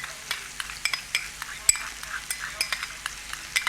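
Mayonnaise and ketchup being stirred together for a sauce, a spoon scraping and clicking against the bowl in quick irregular strokes, close and fairly loud with no talk.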